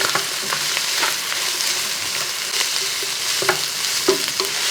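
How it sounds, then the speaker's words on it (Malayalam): Fried onions stirred into biryani gravy in a hot pan, a loud continuous sizzle broken by repeated scraping strokes of the spoon, close and with no voices. "സവോള ഇട്ടതിന് ശേഷം എല്ലാം കൂടെ ഒന്നിച്ചങ്ങോട്ട് ഇളക്കി കൊടുക്കും"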